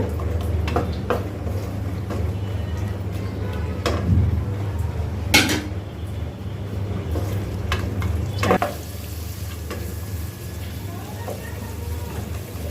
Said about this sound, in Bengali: পেঁয়াজটা ভালোভাবে ভেজে নিতে হবে